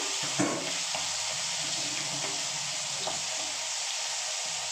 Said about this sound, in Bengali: আমি মাথা এই যে রুই মাছের মাথাটা নুন হলুদ মাখিয়ে রেখেছিলাম ভেজে নেবো এটাকে ভালো করে